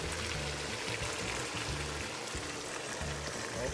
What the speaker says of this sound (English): So now it's come to a boil, and I'm just going to add the cornstarch and water mixture to tighten it up.